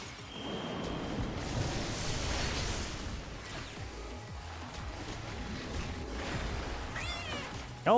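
Cat meow alert for a stream donation, a brief meowing near the end rising over a dense wash of game noise and background sound.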